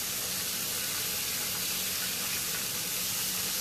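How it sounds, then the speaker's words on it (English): Pork chops fry in a pan, giving a steady, loud, dense sizzle and hiss that holds evenly throughout with no voices over it. "They be frying extra quick for some reason."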